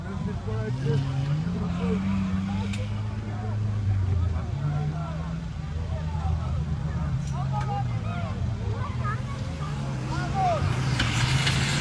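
A car is driven aggressively through an obstacle-course competition in Akhaltsikhe, its engine revving and droning in rising and falling pitch throughout, loud and steady, with a commentator talking over it.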